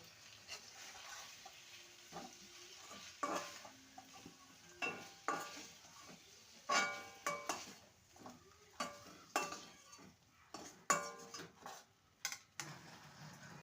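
Nigella seeds and a green chilli are tempered in mustard oil in a wok, with soft sizzling under repeated sharp scrapes and clinks of a spoon against metal.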